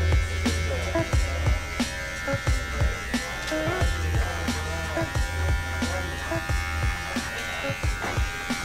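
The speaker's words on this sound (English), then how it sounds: "Keep that clipper on the angle of the grain." Electric hair clipper buzzing steadily close up while cutting hair at an angle to the grain, with repeated brief clicks and strokes over the hum.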